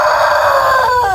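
Rhode Island chickens crowing and calling loudly up close, a sustained strained rooster crow with bright wavering tones that bend and break near the end, no talk.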